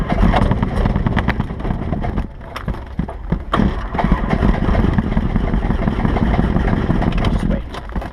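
A Cessna 172 piston engine catches and settles into a loud, rough, steady run close by, with wind buffeting on the microphone and no speech heard.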